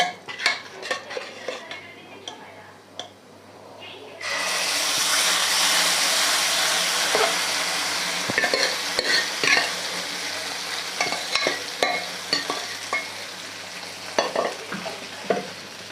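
A pan of dal is stirred into garlic tempering. A sudden loud sizzle takes over and holds, with scraping spoon strokes and clinks of metal on the pan throughout.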